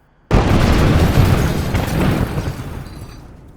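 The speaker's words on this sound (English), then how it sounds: "The debris from the explosion showers on Mr. Kevin's face, making it white." A sudden loud C4 explosion sound effect bursts in, followed by a broad rumbling roar that slowly decays over a few seconds.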